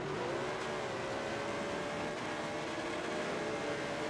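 A stadium truck engine in the SRX racing game revs hard and steadily at high pitch, a continuous loud whine held throughout with slight wavering in tone.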